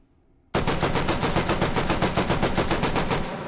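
A Madsen LAR rifle fitted with a muzzle brake fires in the game H3VR. After a moment of near silence, one loud, rapid, evenly spaced string of shots runs for about three seconds without a break.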